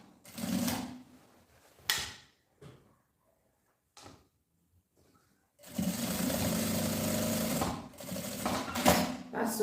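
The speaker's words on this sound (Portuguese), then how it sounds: "passa a costura" A domestic sewing machine stitches the lining of a backpack in several bursts: short runs of whirring at the start, then a long steady stitching run that fills the second half, separated by quiet pauses and small handling knocks.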